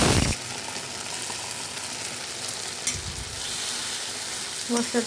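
Whole spices, cloves, cardamom, cinnamon and cumin, hit hot oil for a Shahi paneer and crackle in a loud, steady close-up sizzle, with a few scraping stirs near the end.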